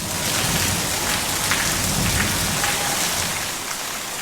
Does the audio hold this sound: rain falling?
yes